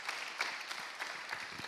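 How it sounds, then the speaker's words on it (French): Audience clapping for an award winner at the 2016 creators' challenge final, a moderate steady patter of many hands with a few sharper claps, no voices over it. "On l'applaudit."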